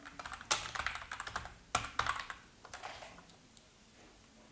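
Rapid keystrokes clatter on a computer keyboard in irregular bursts, fairly close and crisp, thinning out toward the end with no voices.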